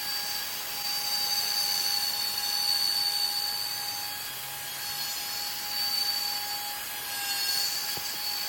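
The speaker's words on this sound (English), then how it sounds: "I get the rough outline cut out with the router" Steady high-pitched whine of a router cutting the rough outline of a wooden chess board, a continuous buzzing tone with slight swells in loudness and no talking.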